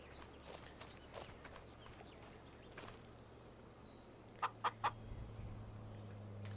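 Chickens cluck and scratch in a Farming Simulator 25 farmyard, a few sharp clucks standing out over a steady low machine hum, with faint footstep-like taps scattered through.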